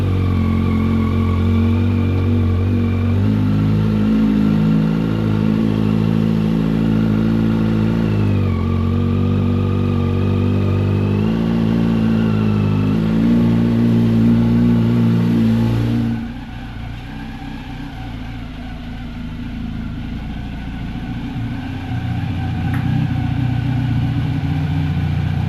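A Kawasaki Z900 motorcycle engine runs loud and close with rising and falling revs as it rides down toward a garage, then drops to a quieter, lower rumble partway through.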